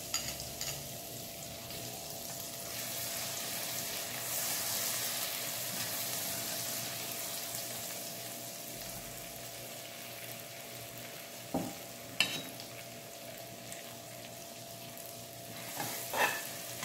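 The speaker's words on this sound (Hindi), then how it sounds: "100 ग्राम बटर ऐड कर दिया, साथ ही 4 से 5 जो क्लोव्स होते हैं गार्लिक के, वो हल्के से मैंने वो चॉप कर लिए बिल्कुल इस बटर के अंदर।" Chopped garlic cloves sizzling in butter in a pan, a steady close frying hiss with occasional stirring scrapes and clinks of a utensil against the pan.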